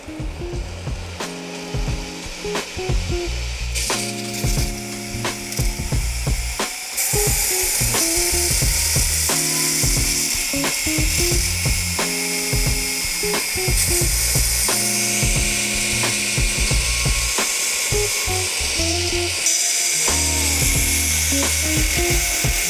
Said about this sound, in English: you can see on this first pass that I can still hold this when it came off the grinder. This is just throwing metal off the steel bar